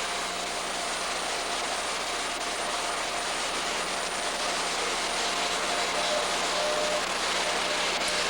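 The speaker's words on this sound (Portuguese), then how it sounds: "O helicóptero da Marinha que está decolando desloca o presidente da República, Luiz Inácio Lula da Silva." A Brazilian Navy helicopter takes off with a steady, broad engine and rotor roar that holds at a moderate distance and swells slightly toward the end, with no talk.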